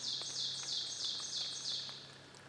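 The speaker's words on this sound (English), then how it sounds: "Birds are singing." Birds sing in wet spring woods during a turkey hunt, a repeated high, descending song phrase recurring about every half second, faint and distant over quiet ambient background.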